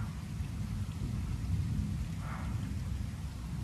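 Heavy evening thunderstorm in Metz, a dense steady wash of rain with low rumbling thunder underneath, continuous and fairly loud throughout.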